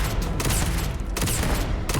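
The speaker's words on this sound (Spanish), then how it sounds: "Esto es una escopeta entonces." Shotgun blasts in the video game Starfield, loud heavy booms over dense continuous combat noise, with two sharp bursts roughly a second apart and no talking.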